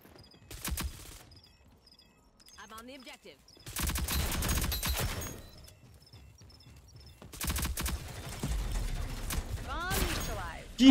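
Rapid gunfire from a weapon in the video game Rogue Company, loud fast bursts of shots in three separate strings with quiet gaps between, and some talking in the background.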